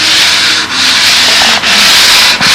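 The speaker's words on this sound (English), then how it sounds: "you want to get a real fine sanding on that" Fine sanding of a molded carbon fibre part with a sanding block: steady, loud, continuous rasping strokes close to the microphone, with only brief dips between passes and no talking.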